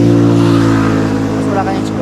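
A car engine hums close by on a roadside at a fish market, steady and loud for two seconds, with people talking over it.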